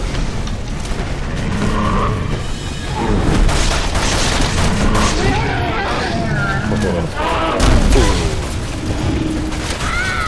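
Bursts of turret gunfire and booming impacts in Resident Evil 6 gameplay, rattling in clusters amid chaotic game noise while a player talks excitedly over it.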